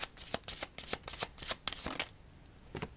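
Lenormand cards are shuffled by hand in a quick run of crisp riffling flicks, about a dozen close, bright bursts, then a brief pause and a final pair of flicks, with no talking.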